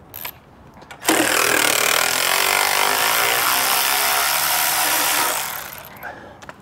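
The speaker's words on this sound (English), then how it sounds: "we got a little half inch screw here that we're gonna go ahead and remove" A power tool backs out a half-inch screw from the belt cover of a Bobcat machine in one loud, steady whir of about four seconds, with quiet clicks before and after.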